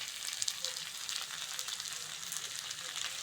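Potatoes and onion frying in a pan with spices being added for a Bengali silver carp fish curry, a steady hissing sizzle with no breaks throughout.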